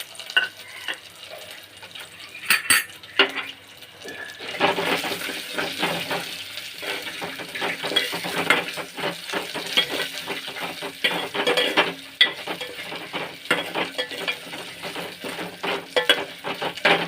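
Dried red chilies, moong dal, cumin and coriander seeds fry in a pan over a medium flame for tamarind-leaf chutney, crackling and sizzling steadily up close while a spoon scrapes and stirs throughout.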